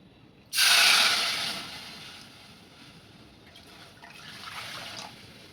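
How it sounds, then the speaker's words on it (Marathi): Water pours suddenly into a vessel of soaked rice with a loud splashing rush that fades into a softer trickle and settles. "एक वाटीला दोन वाट्या पाणी घ्यायचं आहे आपल्याला याच्यामध्ये घालायचं आहे दोन वाटे पाणी"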